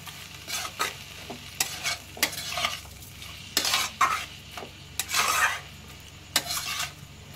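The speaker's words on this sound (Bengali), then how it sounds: "এবার দিয়ে একটু হালকা নাড়াচাড়া করে" Banana flower curry (mochar ghonto) with added sugar is stirred in a pan, giving a steady run of scraping, sizzling strokes about one every half second, close and fairly loud, with no talking.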